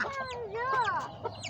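Chicks kept in a small backyard mini zoo give a few high, bright peeping chirps that rise and fall, heard up close over low background noise.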